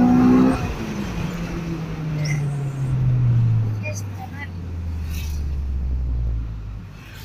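Cars pass on a road, including a bus, a close engine rumble falling slowly in pitch as a vehicle drives away, with a steady roar of traffic and a voice talking over it.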